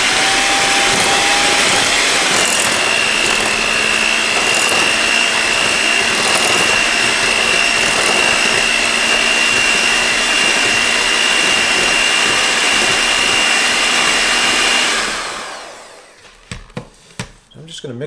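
An electric hand mixer runs on low speed, blending yogurt into a protein cookie batter. It gives a loud, steady motor whine for about fifteen seconds, then cuts off and leaves a few light knocks.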